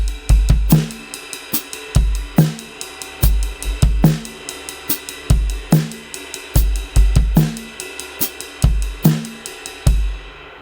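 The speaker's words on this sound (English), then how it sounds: "this week we're working on it with 16th note grooves" A drum kit plays a steady 16th-note groove with an ostinato pattern, punchy kick and snare hits over constant cymbal strokes, close and loud with no talking, in a worship drummer lesson.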